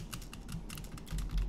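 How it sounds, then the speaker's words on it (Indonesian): Typing on a Logitech wireless non-mechanical keyboard, picked up by a Thronmax MDrill One Pro USB microphone in cardioid mode: quick, soft, fairly muted key taps in an uneven rhythm, close by, with no voice. "ini keyboard wireless dari Logitech."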